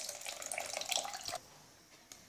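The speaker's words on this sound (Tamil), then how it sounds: "இப்போ புளித்தண்ணி கரைச்சி வச்சதை சேர்த்துக்கலாம்." Tamarind water pours and splashes steadily into a pan for over a second, then cuts off, leaving a quiet room with a faint clink near the end.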